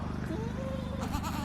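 A milk goat doe bleats on a homestead farm, a wavering drawn-out cry over a steady low hum, with a second shorter bleat near the end.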